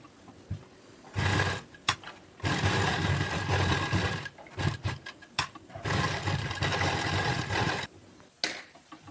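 Sewing machine stitching lace onto a suit neckline, running in loud close bursts with short pauses and the odd sharp clack between runs.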